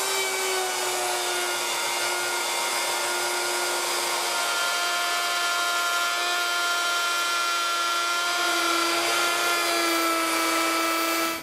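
A handheld router spins up and cuts a Roman ogee profile along a wood edge, a loud, steady high-pitched whine with a sustained tonal hum held throughout, with no talk.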